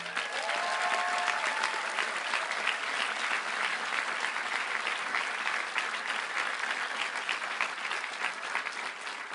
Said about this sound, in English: the applause will run over the punchline